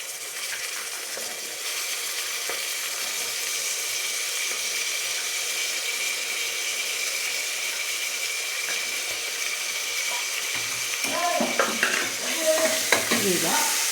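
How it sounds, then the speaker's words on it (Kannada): Field beans tip into a hot frying pan of tomato bath mixture and get stirred, giving a steady broadband sizzle with scraping and clinking of the spoon near the end; no one speaks. "ನೆಕ್ಸ್ಟು ಆಗಲೇ ಬಿಡಿಸಿಟ್ಕೊಂಡಿರ್ತಕ್ಕಂಥ ಅವರೆಕಾಳನ್ನ ಸೇರಿಸೋಣ."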